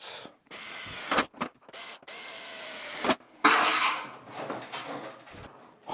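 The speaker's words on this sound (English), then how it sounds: "now I gotta drill into here like that." A cordless drill whirs in several short bursts, revving up and stopping, with a longer grinding run into wood near the end.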